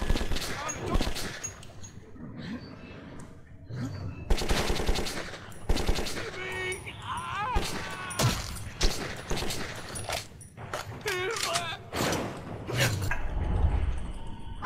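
Rapid bursts of automatic gunfire mix with shouting voices and clanking metal in a frantic, loud exchange of shots in the video game Metro 2033.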